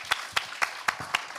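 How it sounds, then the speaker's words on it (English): An audience applauds after a talk at a youth-led solutions event, heard as sparse, evenly spaced hand claps, about four per second, fairly close and distinct rather than a dense roar. "that definitely deserves a round of applause"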